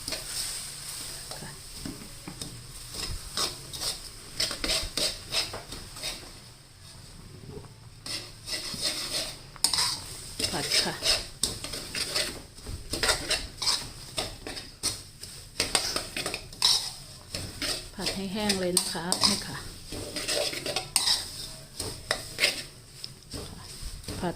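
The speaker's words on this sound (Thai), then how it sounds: "เราก็ใส่งาที่เราตำไว้ค่ะ ที่เราคั่วไว้นะคะ ลงไปผัดค่ะ" Roasted ground sesame is stirred into melted coconut sugar in a pan for a Thai dessert filling: repeated scraping and clinking of a utensil against the pan over a soft sizzle, close and continuous, with little talk.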